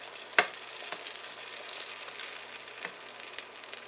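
Oil paratha roti frying on a hot pan gives a steady, fairly quiet sizzle, with a few sharp crackles and pops breaking through as it cooks.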